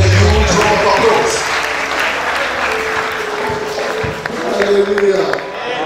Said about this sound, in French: On applaudit les rois des rois.